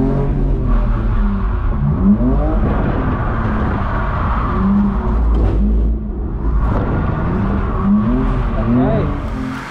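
A loud Dodge Hellcat engine revs and rises in pitch repeatedly while drifting, rumbling close by as the throttle swells and drops in waves.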